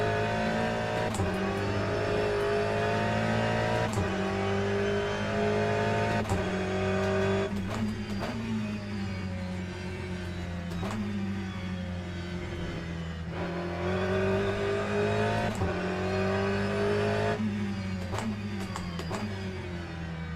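An Aston Martin GTE race car in the Le Mans Ultimate racing game, its engine droning steadily with rising and falling revs through gear shifts, loud and continuous with no talking.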